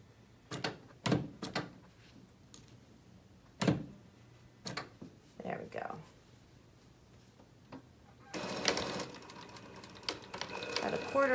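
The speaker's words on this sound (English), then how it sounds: "I'll stitch just about a quarter inch beyond the stitch that was used to secure the zipper." A sewing machine stitches a zipper seam on a knife-edge bolster, running in a dense continuous burst near the end after a series of scattered knocks and clicks; no talk.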